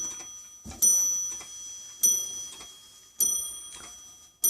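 An antique French four-glass mantel clock with beveled glass panels, heard as a regular bright tick repeating about every 1.2 seconds, close and clear in a quiet room with no voices.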